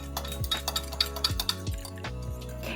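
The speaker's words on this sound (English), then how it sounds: "you're gonna wanna mix it all up" Dry Chex mix being stirred with coarse Lowry garlic-and-parsley seasoning, a steady crunchy rustle with repeated light clinks and scrapes against the bowl, close and fairly quiet, with no talking.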